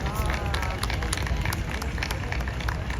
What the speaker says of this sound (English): Can we give our friend a round of applause?